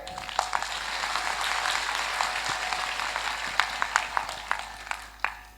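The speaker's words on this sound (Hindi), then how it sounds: "ये तालियां मैंने इसलिए बजवाई" A class applauds a student, a moderate round of clapping that thins out toward the end into a few scattered individual claps.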